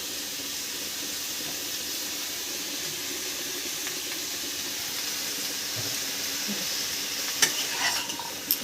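Pieces of chicken fry in a pot for a Bengali-style chicken stew, giving a steady close-up sizzling hiss, with a few sharper stirring knocks near the end.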